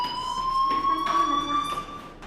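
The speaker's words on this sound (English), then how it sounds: "do you hear that fire alarm?" Fire alarm in the video game Life is Strange, a steady electronic tone ringing continuously throughout at moderate loudness over faint background ambience.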